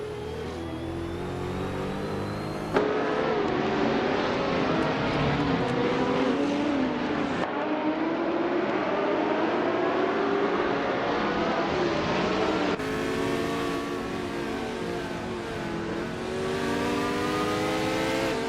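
Race cars in a racing video game roar continuously with layered engine tones rising and shifting through gear changes, loud and close, with abrupt cuts between camera views.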